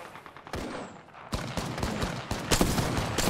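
Rapid bursts of gunfire in an Apex Legends match, several sharp volleys cracking in quick succession at moderate distance, with no talk over them.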